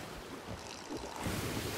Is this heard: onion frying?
no